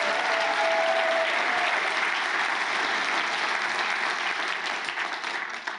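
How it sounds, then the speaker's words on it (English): A conference audience claps steadily and loudly for the whole stretch, dense sustained applause with no voices above it, tapering slightly near the end. "Kiera Bell, who I want you to give applause"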